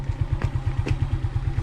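Motorcycle engine idling and pulling away with two riders aboard in a rural setting: a steady, fast thumping putter close by, with a couple of faint clatters above it and no talk.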